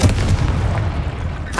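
Confringo, the blasting spell in the Hogwarts Legacy video game, goes off in a heavy, booming burst. A deep rumbling echo follows, and a sharp crack sounds right at the end.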